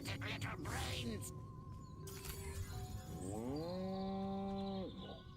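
Cows moo in a farm setting, several drawn-out calls one after another, loud and close, with rising, wavering pitch and a long sustained moo near the end over faint background noise.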